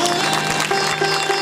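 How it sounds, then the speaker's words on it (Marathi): An audience at a Marathi devotional Shiva Purana gathering gives loud applause for two performers, a dense burst of clapping that holds steady through the moment, with a faint sustained tone underneath. "चला दोघांसाठी जोरदार टाळ्या होत आहेत."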